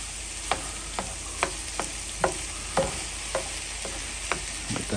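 Stuffed pepper filling frying in a pan under a steady sizzle, with about a dozen sharp spoon scrapes and clicks of stirring at a loose, irregular rhythm, close and clear.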